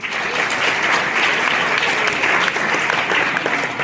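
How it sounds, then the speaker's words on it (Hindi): Schoolchildren at a village children's assembly applaud a classmate, a full, even burst of many hands clapping that runs without pause throughout, with no talking over it. "तालियां बजाएं इनको"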